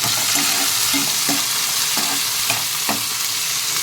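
Ingredients for a fish curry drop into hot oil and sizzle loudly and continuously, with regular stirring knocks about every half second to second audible beneath the hiss, close up and without speech.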